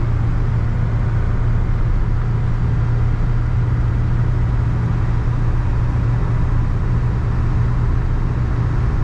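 Constant cabin drone of a 1997 Ford F-350 7.3L Powerstroke diesel pickup cruising near 55 mph at about 1,800 RPM, a loud, unbroken low rumble with road noise and no speech.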